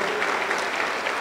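A congregation applauding during a church service, a brief burst of steady, fairly close clapping from many hands.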